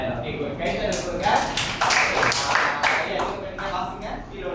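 A classroom of students clapping hands together during a macro-teaching lesson, a brisk, uneven round of applause with sharp individual claps, and a voice speaking over it.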